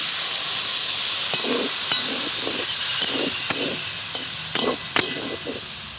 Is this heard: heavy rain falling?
no